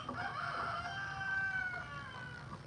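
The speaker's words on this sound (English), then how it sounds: "these roosters start crowing" Roosters crow in long drawn-out calls that rise and fall, fairly close and loud, with no talking, ending on a sudden louder burst.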